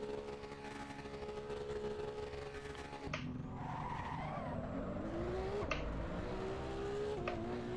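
Tires skid and squeal under hard braking on a racing car in the sim game Assetto Corsa Evo, alongside a loud, steady engine drone with gear changes and brief screeches near the end.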